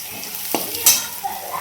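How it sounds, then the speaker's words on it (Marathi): Hot oil in a kadai sizzles as a garlic and coriander tempering goes in, a brief close crackle with a short sharp spatter and light utensil scraping. "कडीत तेल टाकले तापायला टाकला होता लसूण कोथिंबीर फोडणी दिली"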